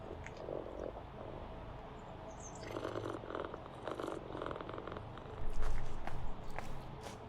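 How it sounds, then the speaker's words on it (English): A pet cat named Ulysses purring softly and steadily close by, a low continuous rumble with faint shuffling and small movement noises over it. "I just hear one of my cats."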